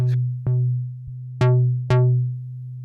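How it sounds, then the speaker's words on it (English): A steady Behringer Edge synthesizer oscillator drone with repeated plucked retriggers, each note bright at the attack then quickly mellowing, no voices. "So we've got 2 oscillators and they can be a square or a triangle."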